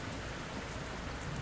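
Rain pelts down steadily in a video game scene, a dense, even hiss of drops striking surfaces that fills the whole stretch with no pauses or voices.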